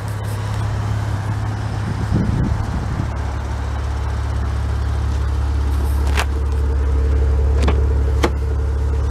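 A 2017 Maserati Ghibli SQ4 AWD driving, heard from inside as a steady low engine and road drone at constant volume, with a couple of faint clicks near the end and no talking.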